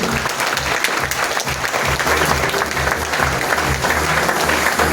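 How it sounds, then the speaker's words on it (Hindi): Loud, sustained applause from a large audience at an awards and recognition event in a hall, dense clapping filling the whole stretch without pause. "जोरदार तालियां।"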